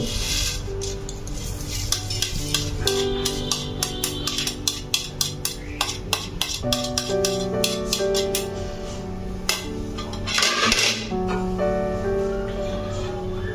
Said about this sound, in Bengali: এখন খুন্তি দিয়ে অনবরত নাড়তে থাকবো